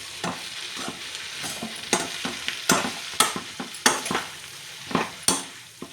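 Spinach (bachalaku) curry is stirred in a frying pan with a sizzle underneath, as a spoon scrapes and knocks against the pan in a loud, irregular rhythm.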